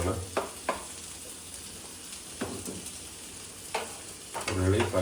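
Onions sautéing in a pan with tomato and green chili make a soft, continuous sizzle, fairly quiet, with a few sharp stirring clicks and a louder burst of frying near the end.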